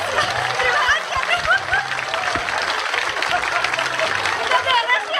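Loud applause from a live theater audience at a JKT48 idol group show, dense steady clapping throughout with faint voices and chatter mixed in.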